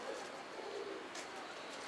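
Pigeons coo softly in a loft, a faint low call or two set against a quiet, airy background, with nobody speaking.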